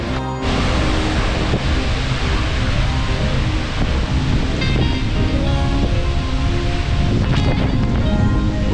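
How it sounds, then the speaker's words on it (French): Skógafoss, a 62-metre waterfall in Iceland, roars as a loud, dense and steady rush of falling water, heard up close with no voices. "C'est une cascade qui est facile d'accès, mais 62 mètres de hauteur"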